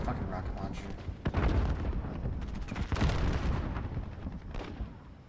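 Rocket launcher blasts in a video game: three heavy booming explosions land about a second and a half apart, each with a sharp crack and rolling rumble, while people keep talking over the noisy mix.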